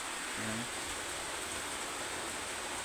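Steady, even rainfall fills the background with a soft broadband wash, faint and continuous with no talking.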